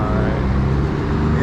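Heavy trucks rumble through a loud town in the Texas–Oklahoma panhandle, a dense, steady low engine roar that fills the whole moment without letup.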